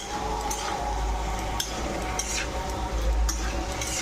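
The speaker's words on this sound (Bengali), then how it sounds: "আমি মশলার সঙ্গে ভালো করে কষে নেবো আলুটা আর বরবটিটা একসঙ্গে।" Potatoes and yardlong beans are stir-fried with spices in a pan, giving a continuous sizzle with repeated scraping and clinks of a spatula against the pan.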